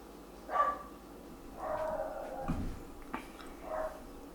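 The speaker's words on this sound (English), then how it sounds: "dog's going crazy" A dog indoors barks excitedly in a short series, four or five separate yips and barks spread over a few seconds, moderately distant and fairly faint against a quiet room.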